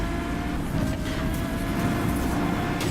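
A train rumbling past during a Need for Speed Rivals race with a Lamborghini or Koenigsegg, a steady loud low roar with a faint tonal whine, continuous and alone throughout.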